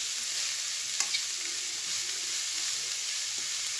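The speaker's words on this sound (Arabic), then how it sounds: "صافي نخلطو جميع المكونات وندمجو الماء" Lasagna ingredients being stirred and mixed together with water in a pan, giving a steady close-up hissing, sizzling texture throughout with a couple of faint clinks and no voices.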